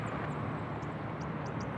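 Steady, loud broadband roar of a fixed-wing airliner at touchdown on a runway at Sydney Airport, continuous and close with no pauses, a few faint chirps above the rumble.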